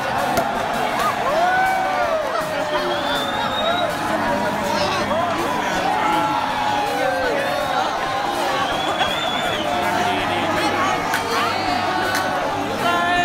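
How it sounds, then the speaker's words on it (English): A big New Year's crowd in Tokyo, a steady dense murmur of many voices chattering and calling out, with occasional whoops rising from the hubbub, heard from within the throng. "I'm stuck in this little crowd here. Actually, it's a big crowd."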